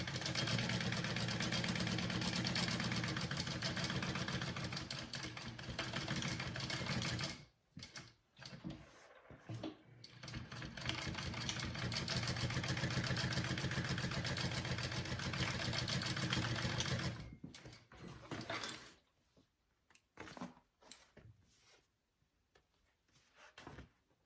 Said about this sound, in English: go ahead and stitch around on your edges